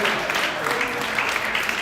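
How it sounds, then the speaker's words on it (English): Short burst of crowd applause at a live music night at an Ottawa arts venue, a steady wash of clapping with a voice briefly talking over it. "Also a round of applause for our bartender, our tech here, for the Queen's Festival, Art Court."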